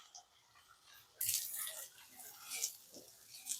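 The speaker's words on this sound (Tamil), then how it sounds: "இந்த ஜாரில் தண்ணியை ஊற்றி" Water pouring and splashing into a container, starting suddenly after a quiet moment and running steadily with small gurgles.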